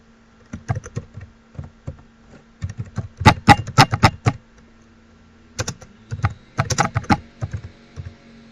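Fingers tap a computer keyboard in close, crisp bursts of keystrokes, with short pauses between quick runs of typing over a faint steady hum.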